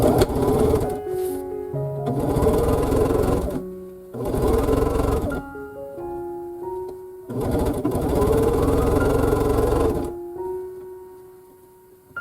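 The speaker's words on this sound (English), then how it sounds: "I'm just going to sew 1/4 inch" A sewing machine stitches a quarter-inch quilt seam in several long bursts separated by short pauses, its motor whirring loudly and steadily while running, then stopping.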